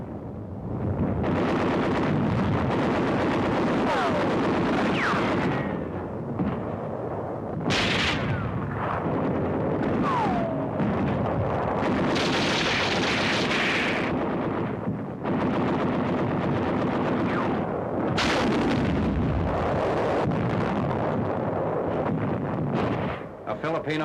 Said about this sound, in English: The enemy uses mortars, rockets, and artillery to hinder our advance.